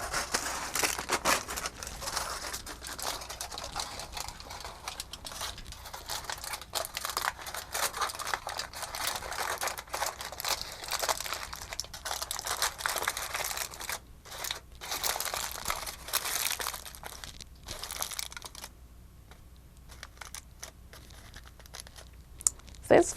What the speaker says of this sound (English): Then cover the soil with the aluminum foil.